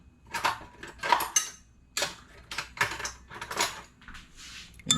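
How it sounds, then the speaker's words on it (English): Spoon stirring ingredients in a bowl for cheese straws, seasoned with a little salt, giving a series of close clinks and scrapes in uneven bursts. "we're going to give that a stir"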